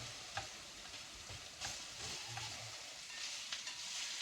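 Onion frying in a pan already browned and caramelized, a steady moderate sizzle with soft stirring scrapes and a few light clinks, no voices.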